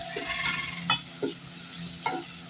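Onions sizzle in a pan after a sprinkle of salt, a steady broadband fry with a few short scraping stirs of a spoon at close range, no voices.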